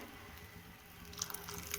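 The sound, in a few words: pouring cornflour slurry into boiling vegetable soup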